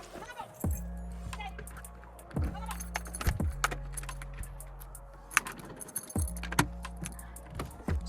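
House keys jangle and clink near the microphone in a home setting, with a few short metallic rattles against low rumbling background noise while someone speaks.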